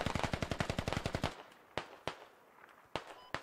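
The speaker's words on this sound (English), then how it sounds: "Rot 44 here has the MG, and he's looking for tracers to shoot." A machine gun fires in the military shooter game Squad: a fast, loud, close burst of about a dozen evenly spaced shots, then a pause and a few scattered single shots.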